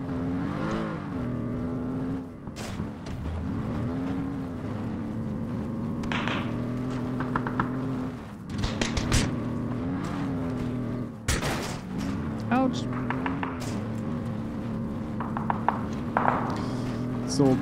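Car driving across open terrain in PUBG, a steady engine hum with rises in revving and occasional bumps and clatters, heard under near-continuous talking.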